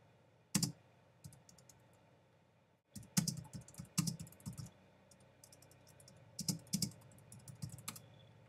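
Close keyboard typing while entering a search, clustered bursts of sharp key clicks separated by short pauses, with a near-silent gap early on and no talk.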